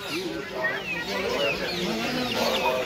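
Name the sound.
native chickens clucking at a village market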